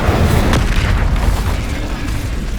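An Incendio fire spell cast in the game Hogwarts Legacy: a loud, blasting burst of fiery noise that rumbles on steadily for the whole moment, with a sharp crack early on.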